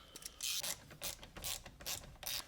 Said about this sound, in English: these are two T30 Torx, so we're going to get in there and remove those